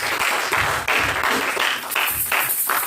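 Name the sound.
congregation applauding and cheering in church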